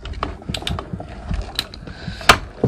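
A hand-cranked die-cutting machine presses plastic for a pop-up card, giving a run of uneven mechanical clicks and ratcheting clatter with a brief sharper squeak near the end.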